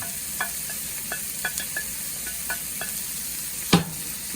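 Red and green pepper, carrot and cabbage stir-fried for Singapore curry noodles: a steady close sizzle broken by regular soft scraping strokes of a utensil and one louder clatter near the end, no voices.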